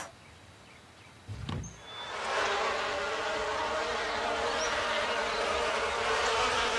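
Cartoon bees swarming in a dense, loud buzzing drone that swells in after a brief thump and holds steady, close and continuous.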